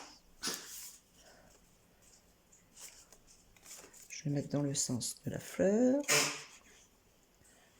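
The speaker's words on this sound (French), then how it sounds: "C'est rien, c'est mon chien." A dog makes short snuffling, sneezy sounds near the start, then a person speaks briefly over faint breathy noises.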